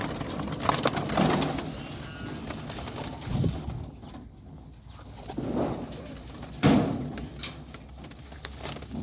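Racing pigeons cooing inside their loft, soft throaty calls repeating in close succession, with occasional wing flutters and shuffling sounds.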